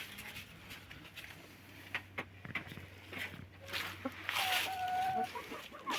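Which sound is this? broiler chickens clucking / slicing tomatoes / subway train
broiler chickens clucking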